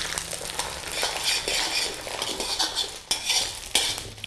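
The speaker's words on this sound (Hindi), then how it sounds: "इन्हें थोड़ा सा सौते कर लेंगे" Whole spices (chilies, bay leaves, cinnamon, cumin, cardamom and cloves) are sautéed in a pan for beef chaap, with a soft sizzle under close, repeated scraping and clinking of a metal spoon against the pot.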